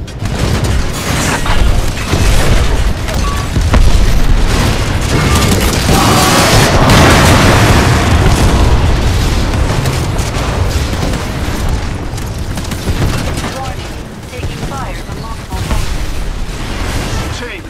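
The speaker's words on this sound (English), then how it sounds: "The Harvester's getting barraged by mortar titans." Heavy mortar fire from titans pounds the Harvester in Titanfall 2 multiplayer, a dense, loud barrage of booming explosions and mechanical clatter that continues without pause for the whole stretch.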